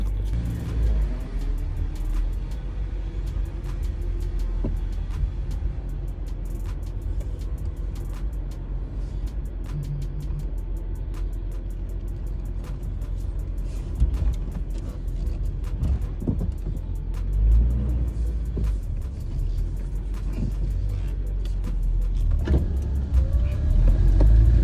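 A Honda Civic rolls along on a test drive with a continuous low engine and road rumble inside the cabin, broken by occasional small knocks and thumps.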